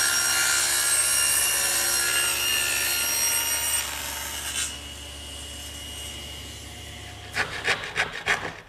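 A table saw cutting a tongue into a wooden board sends out a loud, steady high whine for about four seconds, then winds down to a low hum, with a few soft knocks of wood being handled near the end.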